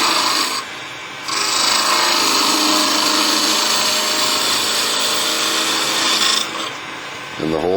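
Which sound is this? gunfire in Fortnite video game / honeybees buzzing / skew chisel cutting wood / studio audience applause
skew chisel cutting wood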